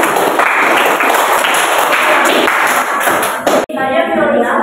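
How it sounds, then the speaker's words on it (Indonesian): A classroom group claps for the first student team, a busy patter of many hands that runs for a few seconds before cutting off sharply into quieter room sound. "Oke, tepuk tangan untuk kelompok 1."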